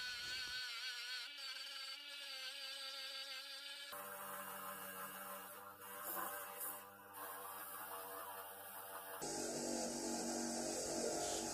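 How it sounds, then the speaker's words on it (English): A wire wheel cleans the tommy bar of a vintage Record No. 74 vise, more than 60 years old. It makes a loud, steady whirring grind that runs continuously, with abrupt shifts in tone. "I personally rotate it round with my left hand while moving it backwards and forward with the wire wheel."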